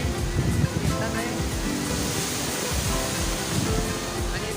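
Steady broadband rush of the Chikhale waterfall near Belagavi, a forest-ringed cascade above a deep valley, roaring continuously and fairly close with no pauses, a low rumble beneath a hissing spray.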